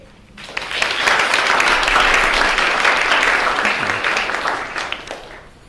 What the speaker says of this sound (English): maybe we can give an initial applause to Abhimanyu Singh